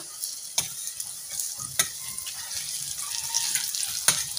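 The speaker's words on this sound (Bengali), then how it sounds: "এবার এ পিঠটাও খুব ভালোভাবে ভেজে নেব" Radish fritters frying in hot oil, a steady hiss of sizzling with occasional sharp clicks and stirring taps from a cooking utensil, close and moderately loud with no speech.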